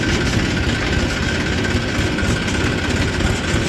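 A tractor engine idles at a sugarcane farm, a loud, steady, close low rumble with constant vibration and no pauses or talking.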